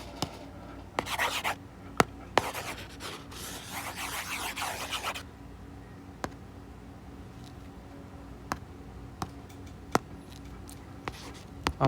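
Eraser rubbing writing off a board, several bursts of close, brisk scrubbing strokes early on, followed by scattered sharp taps and clicks in a quiet room.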